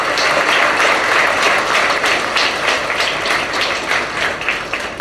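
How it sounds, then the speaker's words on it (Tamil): An audience at a school annual day function gives steady, vigorous applause, with many hands clapping together in a loud, sustained wash for several seconds and no talk over it. "அவங்களுக்கு ஒரு கைத்தட்டல் கொடுத்துடலாம் தான்"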